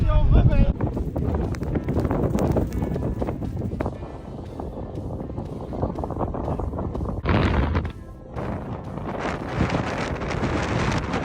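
Strong wind buffets the microphone on a motorcycle trip in Mongolia, a loud, gusty roar that surges and dips throughout, with a voice speaking over it at times.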